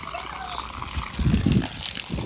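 Water trickling and splashing steadily close by, with some faint background voices.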